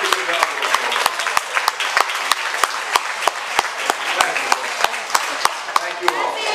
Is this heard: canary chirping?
no